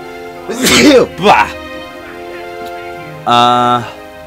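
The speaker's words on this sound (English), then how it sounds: "I need to sneeze" Two sharp sneezes in quick succession, loud and close, followed by a brief tonal voice-like sound.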